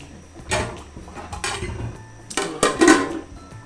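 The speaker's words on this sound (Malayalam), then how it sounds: "അതിനാണ് ചട്ടി എടുപ്പത്ത് വെച്ചിട്ടുണ്ട്." A metal cooking pan clatters onto a stovetop in a home kitchen while egg biryani is being prepared, with a few sharp clanks and scrapes in two short bursts, close and moderately loud.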